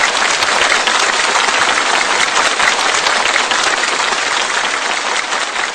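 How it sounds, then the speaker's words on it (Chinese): Loud, sustained audience applause fills the hall to welcome a Peking opera singer from Shanghai, a steady dense clapping with no voices over it. "一起用热烈的掌声欢迎来自上海的李炳淑女士"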